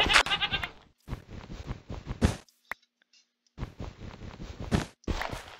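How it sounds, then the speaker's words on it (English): Goat bleats from a modded video game play in a few separated bursts, fairly close and clear, with short silent gaps between them and no talking over them. "Now we have a pet goat."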